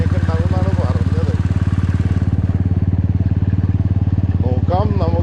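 A motorcycle rides along a forest road, its engine chugging loud and close in a steady rhythm throughout, with someone talking briefly over it.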